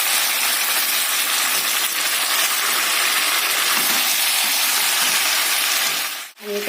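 Water pours into a pan of chicken cooking in oil, making a steady close rushing hiss that lasts several seconds and then cuts off with a brief clatter.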